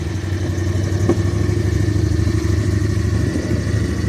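Engine of a Max 2 amphibious 6x6 UTV driving forward, a steady loud mid-pitched drone with a rattling, clattering texture and a brief knock near the second mark, running alone throughout.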